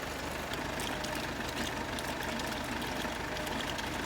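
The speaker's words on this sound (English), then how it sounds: "I'm just going to run the engine for a few seconds" A 60-year-old tractor's heavy engine idles steadily, a low rumbling chug with a regular knocking pulse, close and continuous throughout.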